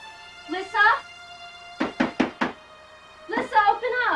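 Four quick, sharp knocks rap on a door in a rapid burst, close and loud, with voices talking before and after.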